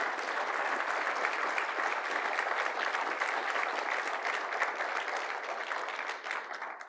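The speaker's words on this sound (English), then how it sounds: "could we just all give a big thanks of applause for those who served?" An audience at an evening program honoring military veterans breaks into sustained applause, a thick, steady roar of clapping that holds for several seconds before easing off at the end.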